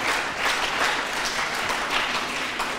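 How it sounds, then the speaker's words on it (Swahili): A class of secondary school students at Ruthimitu Mixed High School breaks into steady, dense applause for a classmate during a Kiswahili lesson, a short continuous burst of many hands clapping. "Makofi mpigie."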